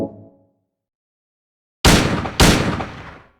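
Two loud handgun shots from Silent Hill 2, about half a second apart, each a sharp blast with a ringing decay, following a short faint tone and a stretch of silence.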